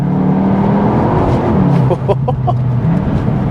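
A loud, close, continuous engine drone from a Cupra Leon hot hatch holds a steady pitch, then dips briefly midway, with a few short chirps over the top and no speech.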